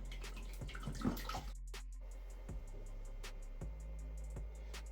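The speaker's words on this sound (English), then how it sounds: "So you can see the water is still draining." Water trickles and splashes steadily, draining from the filter lines of a Kinetico water softener and reverse-osmosis system, with occasional drips and small gurgles, fairly quiet and close.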